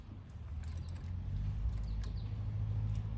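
A brake caliper piston tool is screwed in on the rear brakes of a 2013–2016 Ford Escape, giving faint creaks and small mechanical clicks over a low rumbling background, close and quiet, with no talking.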